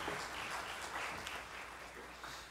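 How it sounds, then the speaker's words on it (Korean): Church congregation applauding during a Wednesday worship service, a soft, steady wash of clapping that stays even and moderately distant throughout. "우리 하나님께 영광의 박수 올려드리도록 하겠습니다"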